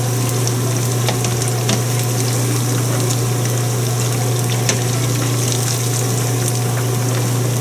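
Fish pieces and chips frying in hot oil in a pan for a Baja-style fish and chips, a steady dense sizzle and bubbling with a constant low hum underneath, close and even throughout.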